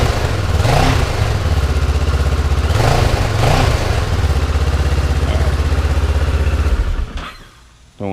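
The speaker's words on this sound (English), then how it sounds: "Rev it up just a little bit, but it is cold." A cold motorcycle fitted with a Delkevic SS70 slip-on exhaust revs up loud and close, a low throaty drone with a few brief blips before dropping off abruptly near the end.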